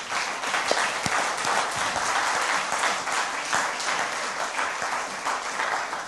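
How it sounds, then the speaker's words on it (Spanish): A church congregation breaks into steady, full applause, many hands clapping together at an even level throughout. "Dele un aplauso gigante a Dios también."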